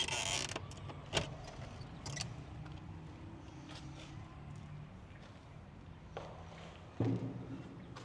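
A small door at Bacha Khan's tomb in Afghanistan creaks open in a quiet interior, with several sharp creaks and clicks spread across a faint, hushed background.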